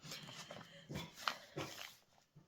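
A dog whimpers in short, thin whines at a home with neighbours out in the garden, the cries rising and falling in a few moderate bursts over background room noise.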